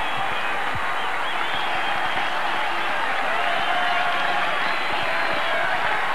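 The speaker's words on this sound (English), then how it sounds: "Listen to the crowd." A large crowd, with a big Sri Lankan contingent, roars and cheers at a 1992 Cricket World Cup match between Sri Lanka and England after a boundary. The dense, steady roar fills the whole stretch without letting up.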